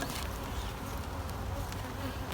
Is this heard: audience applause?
no